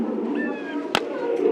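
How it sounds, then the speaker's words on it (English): A bird calls indoors in a natural history museum, one short whistled cry rising above a murmur of background chatter, followed by a sharp clack and quiet room noise. "It's a bird called to talk to me."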